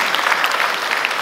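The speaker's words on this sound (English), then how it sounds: "we give them a very deserving round of applause" Audience at an investment expo in Abuja claps in a dense, steady burst of applause, loud and close, with no talk over it.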